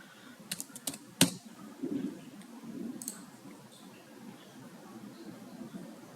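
Quick keystrokes on a computer keyboard: a short burst of sharp clicks near the start, then softer scattered taps over faint background noise.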